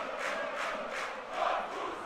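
Football fans of FC Energie Cottbus chant and roar in a stadium during a match against Babelsberg, a distant, rolling crowd din with rhythmic swells.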